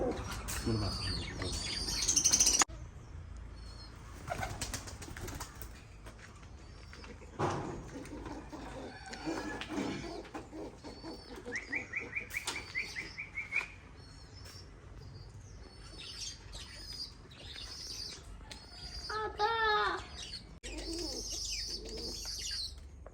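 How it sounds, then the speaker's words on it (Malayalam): Pigeons feed their chicks outdoors, with busy, overlapping chirps, squeaks and cooing from close birds, some bursts louder, over a steady background hum. "ഇതാട്ടാ നമ്മളെ പ്രാവിന്റെ കുട്ടികൾക്ക് തീറ്റ കൊടുക്കണതാണ് പ്രാവുകൾ തീറ്റ കൊടുക്കണ രംഗാണിത്"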